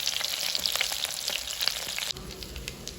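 Thread chicken frying in a pan over low heat: a bright, crackling sizzle with scattered pops for about two seconds, then dropping to a quieter, duller hiss, no voices.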